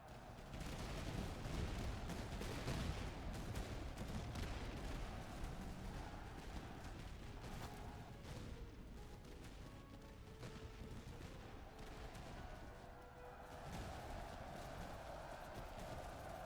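Battle gunfire from the Master of Command video game, a continuous dense rattle of musket volleys and booming shots, faint and distant-sounding, with no talking.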